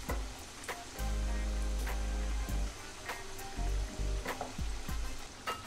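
Red spinach and gram flour pakoras sizzle steadily in hot oil, a loud continuous frying crackle with bursts of bubbling that swell and ease as the pieces cook, with no talking.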